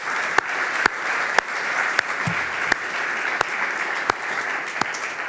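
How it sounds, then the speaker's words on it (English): An audience at a climate science conference applauds the panelists with a steady, even wash of clapping throughout, with occasional sharper claps cutting through. "Round of applause."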